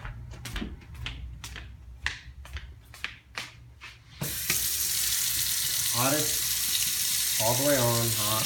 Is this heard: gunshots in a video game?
no